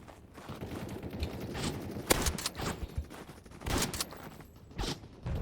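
Fortnite gunfire in a video game match, sharp shots and short bursts scattered across several seconds over a busy game-sound background, moderately loud.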